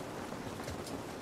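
Steady rain pours in The Last of Us Part 1, a dense, even hiss of drops spread across the whole moment with no voices and no breaks.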